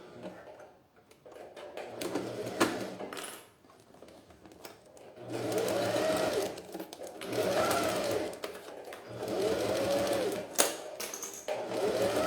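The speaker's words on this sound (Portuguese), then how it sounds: "Vou costurar com o zíper virado para cima" A domestic sewing machine stitches a zipper onto a beach visor pouch in bursts of steady motor whir, three main runs separated by short pauses, close and fairly loud, with occasional clicks and handling.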